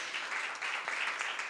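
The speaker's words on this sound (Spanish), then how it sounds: "Si quieren aplaudan, iban a aplaudir, aplaudan." Brief, fairly faint burst of applause from a group at a school training session on dengue prevention, a short patter of clapping heard from some distance.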